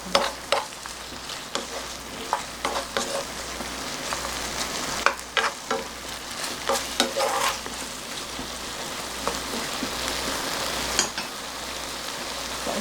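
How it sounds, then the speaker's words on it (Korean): Potato and anchovy braising broth coming to a boil in a pot, with steady bubbling and sizzling crackle plus scattered sharper pops and clinks throughout, close and alone without talk. "자, 이제 곧 끓어오를 겁니다."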